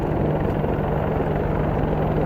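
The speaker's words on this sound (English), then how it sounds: "U.S. military helicopters test fire on South Korean soil." A loud, steady low rumble and drone of U.S. military helicopter engines and rotors during test firing in South Korea, sustained and close with a constant hum.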